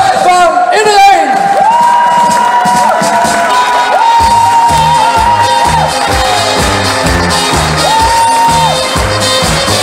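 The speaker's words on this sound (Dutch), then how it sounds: "Onder een heel erg goed applaus van iedereen" An audience cheers as a chairman is called up on stage, loud whoops and shouts rolling continuously from a crowd, with sustained tones running underneath.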